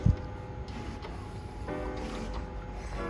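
An HP T210 plotter runs a print job, a steady mechanical whir and hum with faint shifting tones and a brief knock at the start, heard alone at close range.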